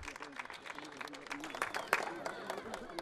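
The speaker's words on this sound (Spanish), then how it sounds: "Aplausos" Applause from the crowd at the inauguration of the Pachitea bridge in Puerto Inca, a dense spatter of claps at moderate distance with voices mixed into the wash of sound.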